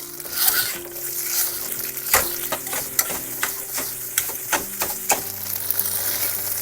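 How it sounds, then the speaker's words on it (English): Crumbled tofu frying in hot oil, with a loud, continuous sizzle broken by repeated sharp scraping taps as a utensil presses and stirs the pieces in the pan. "Once the oil is hot, add your tofu."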